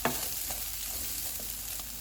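Chicken stir-fries in a pan over medium heat, giving a constant bright hiss of sizzling oil with a few soft scrapes and taps of a spatula, faint and steady.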